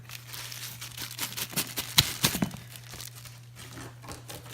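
Packing tape being torn and pulled off a cardboard box while unboxing an HP 23es monitor, heard as close, irregular crinkling and ripping bursts over a steady low hum.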